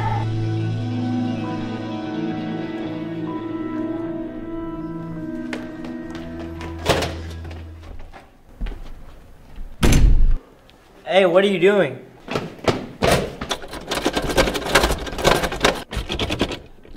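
Someone tries a locked door, rattling and thumping at it in a string of sharp knocks and jolts after a stretch of sustained tones, with a voice speaking partway through.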